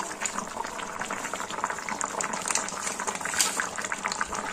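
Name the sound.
curry gravy boiling in a pot with potatoes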